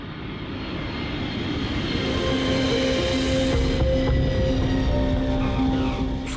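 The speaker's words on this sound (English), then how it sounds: "the VIP jet touched down at Fairburn Air Force Base" A VIP jet aircraft landing at Fairburn Air Force Base, a steady engine roar that swells slightly and then holds, with a faint whining tone running through it and no voices.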